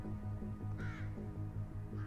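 Crows caw repeatedly in a steady rhythm over a low droning background, with one harsher call partway through.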